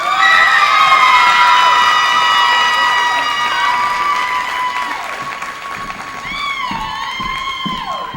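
A gala audience applauds and cheers for the Teachers of the Year: steady, dense clapping with scattered whoops, holding loud throughout and dipping slightly near the end, with sustained tones running underneath.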